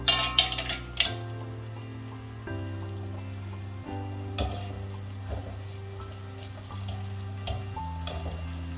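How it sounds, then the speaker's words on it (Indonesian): Kerupuk (Indonesian crackers) fry steadily in hot oil in a wok over medium heat with a soft crackle and bubbling, a few sharper pops at the start, then a constant low hum underneath. "minyak yang sudah kita panaskan di atas wajan dengan api sedang, kemudian kita masukkan kerupuk ke dalamnya"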